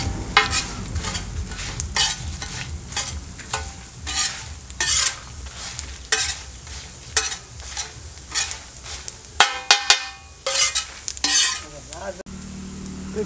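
Fennel seeds stir-fried in a pan, with a soft sizzle under repeated rhythmic scraping and stirring strokes, close and loud with no voices.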